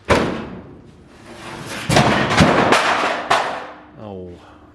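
A metal roof panel or door top from a chopped 1937 Ford hot rod drops in a shop, giving a sharp clattering impact followed by a couple of louder bangs and rattling, with a voice speaking briefly at the end.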